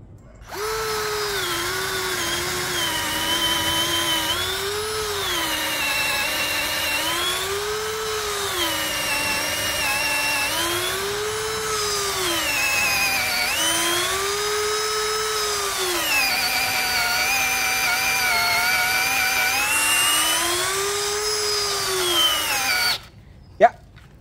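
A power drill at speed setting 1 bores into wood with a 12 mm wood bit, a steady whining motor that rises and dips in pitch in repeated cycles as it bites, ending in a short clack.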